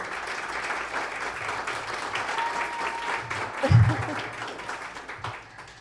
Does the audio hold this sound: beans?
no